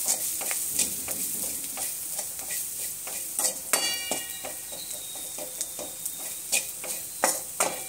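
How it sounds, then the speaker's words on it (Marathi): Coriander powder, salt and chili powder roasting in a pan with oil, asafoetida and turmeric: a steady close sizzle under repeated sharp scrapes and clinks of a spatula stirring, with no voices. "आपण धना पावडर, मीठ आणि तिखट टाकले ते आपण आता भाजून घेऊया"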